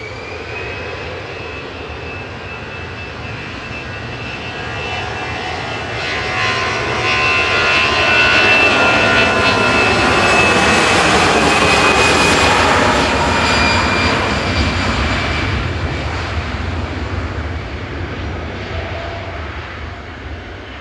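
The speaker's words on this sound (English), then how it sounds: "I always find it weird seeing an Air Lingus. Is this an A320?" An Aer Lingus Airbus A320 jet airliner passes at Manchester Airport, its engine roar swelling to a loud peak midway and then easing off as it moves away, with no voices over it.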